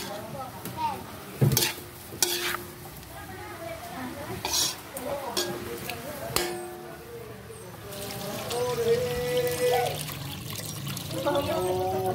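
Mineral water pours with a steady trickle and splash at a home birthday celebration, with clinks of dishes and people talking over it throughout.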